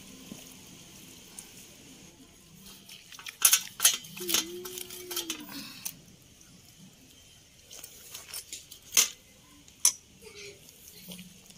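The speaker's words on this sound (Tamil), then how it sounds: "இந்த மாதிரி நைஸாக பொடியாக அரிஞ்சுங்க" A knife finely chops cleaned, boiled goat intestine on a board, giving scattered sharp clicks and taps in short bursts, with someone talking quietly in between.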